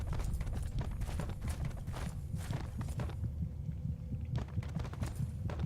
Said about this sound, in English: I hear the heartbeats.